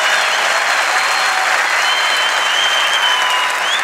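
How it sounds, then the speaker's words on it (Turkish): Dense, steady applause from a studio audience at a Turkish comedy show taping, loud and continuous for the whole stretch with no pauses. "Alkış."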